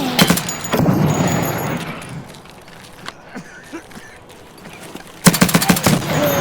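Gunfire in the shooter game Escape from Tarkov: dense bursts of automatic shots open the scene, fall to scattered quieter sounds and footsteps, then a loud rapid volley erupts near the end.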